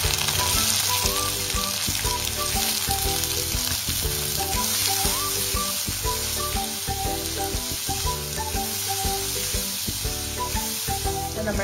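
Red shallots frying in a pan for a horse gram dish, a loud, even sizzle that runs without pause, with tonal hum and background noise woven through.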